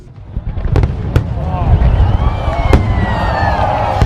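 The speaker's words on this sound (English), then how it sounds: "people are lighting up the sky with fireworks" Fireworks crack in several sharp bursts during a Diwali celebration, with whistling trails and crackle over a murmur of crowd voices.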